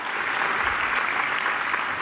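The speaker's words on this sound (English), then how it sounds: "Yes, you can clap for yourselves" Audience at a women's awards breakfast bursts into brief, loud, continuous clapping filling the room.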